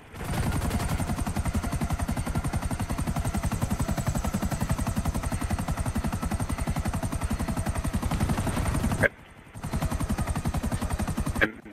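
A helicopter in GTA Online, its rotor a fast, steady pulsing chop under rattling gunfire, continuous and close, dropping out briefly near the end before returning.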